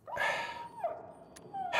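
A dog in the video game Dying Light 2 whimpers, two soft high whines close by, separated by a quiet pause.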